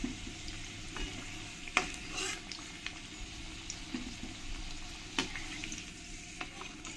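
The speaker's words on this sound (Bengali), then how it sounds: "আমি আলুগুলো ভালো করে লাল লাল করে ভেজে নিয়েছি।" Potatoes frying in oil until reddish-brown, a quiet continuous sizzle broken by occasional light clinks and stirring knocks.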